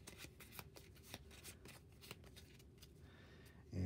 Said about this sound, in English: I'll go ahead and shuffle it up.